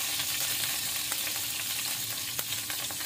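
Urad dal and mustard seeds frying in hot coconut oil, a steady close sizzle with faint crackles and light stirring throughout, no voices.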